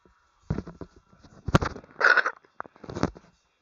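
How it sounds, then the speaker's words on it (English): About four short, harsh coughs burst out close to the microphone at irregular intervals, loud against an otherwise quiet background, with no talking. "sorry if my cough is too loud"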